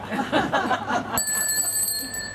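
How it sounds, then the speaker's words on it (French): A bell struck once during an outdoor theatre performance at a picnic, a bright ringing tone that lingers and slowly fades after some background talk and laughter. "Gigi, tu pourrais sonner la cloche, là, je voudrais parler."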